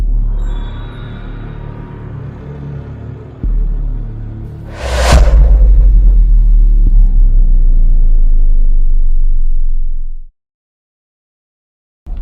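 A tractor engine rumbles close by with a steady low drone, surging louder midway with a brief whooshing burst, then running on heavily before cutting off near the end.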